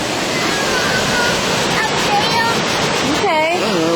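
Loud, constant roar of a waterfall on a family outing, a broad rushing wash of falling water heard close up, with faint voices and a brief whistle-like sound over it near the end.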